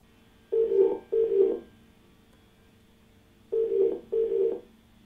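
A telephone ringback tone sounds as a caller is connected to a phone-in TV show: two pairs of clear, evenly spaced electronic rings with a silent gap between the pairs.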